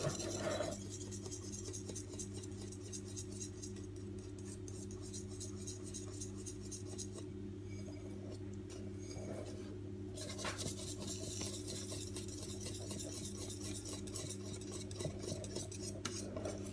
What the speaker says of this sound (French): là je vais bien mélanger pour pas que ça fasse de grumeaux